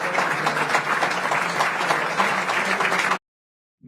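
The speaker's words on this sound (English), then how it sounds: "Let me give myself a round of applause." Applause from a live comedy audience, a steady wash of many hands clapping for about three seconds before cutting off abruptly into silence.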